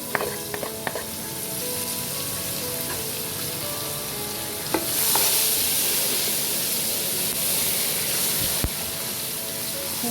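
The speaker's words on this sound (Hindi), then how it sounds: "ये अब मैं एक प्याज इसमें डाल दूंगी और इसको करेंगे हम ब्राउन" Sliced onion fries and sizzles in hot oil for chicken pulao, a dense, continuous crackle close by, with occasional clinks of a spoon against the pan and a swell of louder hissing midway.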